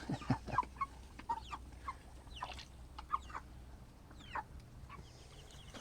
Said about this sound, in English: The little laying hens are doing good.